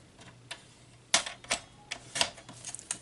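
Cardstock sliced with a paper trimmer in a 6-inch cut, heard as a series of sharp, close clicks and scraping ticks in an uneven rhythm, with no voices.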